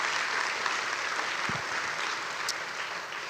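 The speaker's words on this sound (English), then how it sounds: "Can we get a round of applause for the volunteers and the organizers of this event?" Audience applause at a CPAC 2023 conference for the event's volunteers and organizers, a steady even roar of clapping with no voices over it.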